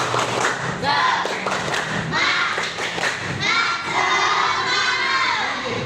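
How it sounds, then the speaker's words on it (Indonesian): Fifth-grade religion class of children doing a rhythmic clapping chant, voices shouting in unison with hand claps and thumps, loud and close, the chorus rising and falling in lively bursts. "sebelum kita belajar kita tepuk semangat dulu yuk"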